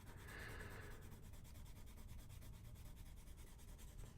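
A Holbein watercolor pencil rubs steadily across paper, laying down layers of color in a soft, continuous scratchy hiss at close range, very faint and without speech.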